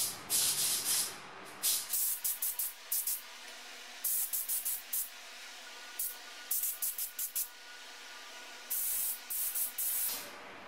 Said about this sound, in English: Firstly, two coats of etch primer were applied.